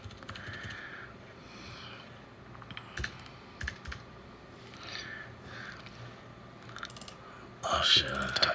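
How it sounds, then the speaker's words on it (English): Rapid typing on a computer keyboard, close and clicky, in irregular bursts of keystrokes with a louder flurry near the end. "let me just type this shit out"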